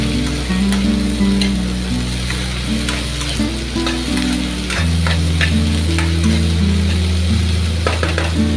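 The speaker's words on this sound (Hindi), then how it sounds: "अब इसमें हम कटा हुआ प्याज जो हमने काट के रखा था वो डाल देंगे, और इसको भी अच्छी तरह से मिक्स कर लेंगे।" Chopped onion stirred into okra frying in a pan, a constant close sizzle with scraping spatula strokes and light clinks over a steady low hum.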